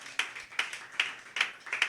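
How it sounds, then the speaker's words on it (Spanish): A church congregation applauds during a Christian sermon, with brisk rhythmic clapping that swells in five regular bursts about every 0.4 seconds, moderately loud and close, with no voices over it. "denle un aplauso al Señor"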